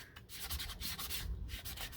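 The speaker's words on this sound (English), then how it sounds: "let's go ahead and scuff the back" Sanding stone scuffing the back of a piece for a journal with a belly band, rapid rhythmic back-and-forth rubbing strokes, close and steady, with no voices.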